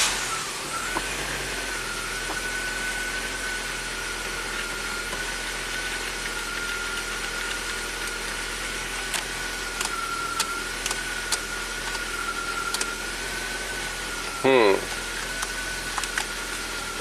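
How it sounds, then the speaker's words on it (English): Abandoned Audi turbo car with its engine running at a steady low idle, a continuous hum with a faint whine, plus a few clicks and a brief knock from the cabin partway through. "Let's just start the vehicle."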